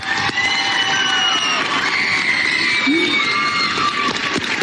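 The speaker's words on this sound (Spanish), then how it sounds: "Un gran aplauso para Shakira" A live audience cheering and applauding for Shakira, a dense, sustained roar of crowd voices and shouts with clapping mixed in.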